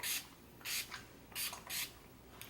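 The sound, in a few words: setting spray misting onto face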